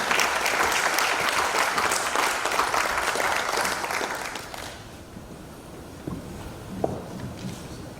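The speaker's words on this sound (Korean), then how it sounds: "박수로 환영해 주시면 감사합니다." An audience at a university vision ceremony applauds to welcome the foundation chairman, steady clapping for about five seconds that fades away, followed by quieter room sounds and a few footsteps.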